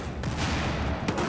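A grenade explodes in Battlefield 4 gameplay, the blast arriving amid continuous dense gunfire and battle noise, with a sharp burst near the end.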